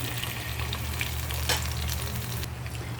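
Bagoong alamang (shrimp paste) sizzling in a hot pan with chili: a steady, close frying hiss with small crackles, over a low constant hum of background music.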